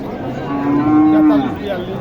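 A cow at the Naogaon Kolahat cattle market gives one long, loud, drawn-out moo that rises over a busy crowd murmur, then fades back into the market noise.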